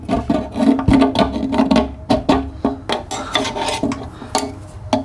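Sawzall blade scraping failed sealer out of a gas tank after an acetone and vinegar soak, a close series of irregular rasping scrapes and clicks, each stroke short and gritty, with brief pauses between.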